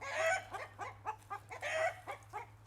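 A rooster clucks nearby in a run of short, rhythmic calls with a couple of louder drawn-out squawks, over a low steady hum.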